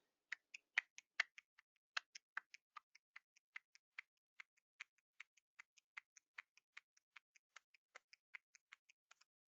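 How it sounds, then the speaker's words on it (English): Fingers snapping close to a microphone at a steady running cadence, a long series of crisp, evenly spaced snaps, faint overall and with no voices over them. "I'm going to try to snap my fingers and see if you can kind of hear it"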